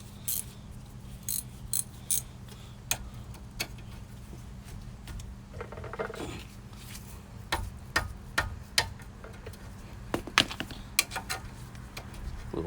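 Ratchet clicking in short bursts while loosening a tie rod on a 2008 Dodge Grand Caravan, with sharp metallic ticks scattered irregularly over a steady low hum, close by.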